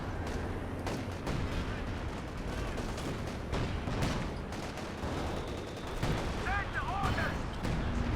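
Artillery fire in Company of Heroes 2 during a 3v3 battle on Hill 400, with repeated booms and gunfire crackling through dense battle noise while a caster talks over it.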